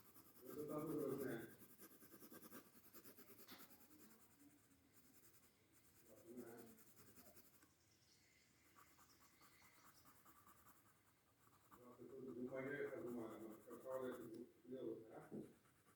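Pencil scratching across paper while a flag of Belarus is drawn, outlining the shape with a larger pencil, in soft intermittent strokes between stretches of nearby talk.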